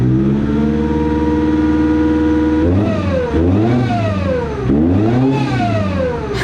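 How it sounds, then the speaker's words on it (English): A supercharged ZD30 engine in a Nissan Patrol idles loudly, then revs up twice in quick succession, each rise and fall of pitch sweeping clearly, close and alone without talk. "It does rev nice"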